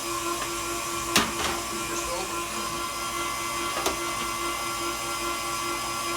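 An electric mixer whirs steadily through sweet potato pie filling, a constant tonal motor hum with a couple of brief knocks, and a voice speaks faintly over it.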